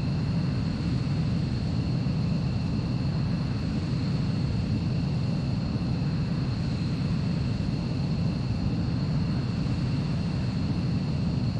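Steady, loud, unbroken roar of a jet aircraft in Ace Combat 4 on final approach to land, with a broad low rumble and a faint high whine held throughout.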